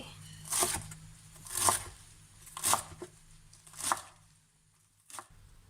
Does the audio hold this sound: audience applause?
no